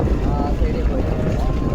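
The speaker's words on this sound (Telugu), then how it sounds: "గాలి చూడు దుమ్ము చూడు మామ." Strong wind roars at night, blowing up dust and buffeting the microphone in a steady low rumble, with faint tonal traces riding over the gusts.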